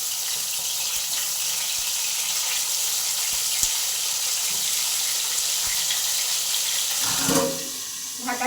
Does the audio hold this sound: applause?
no